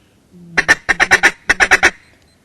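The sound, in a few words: duck call imitating duck quacks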